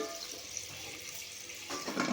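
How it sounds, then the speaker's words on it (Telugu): Water pours and splashes briefly from a bowl into a vessel, a close, wet gush that swells toward the end. "ఇప్పుడు ఈ చెమ్ము నీళ్ళు పోసేస్తానండి"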